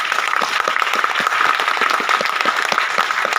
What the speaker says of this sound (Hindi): एक बार जोरदार तालियां सर लोगों के लिए।